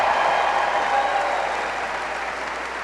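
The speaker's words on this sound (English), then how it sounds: "Let's give a big round of applause for those of you who've been here since Courtney was playing for us." An audience at a women's basketball event, Gonzaga versus Portland, fills the room with dense, steady applause that holds loud and even before tapering slightly.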